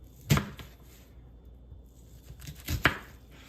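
Knife strokes through onion on a cutting board while preparing guacamole, two sharp close cuts about two and a half seconds apart with quiet gaps between.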